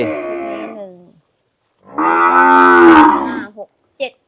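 Cattle moo at a livestock market, two long, loud, close moos separated by a pause, followed by a few short thumps.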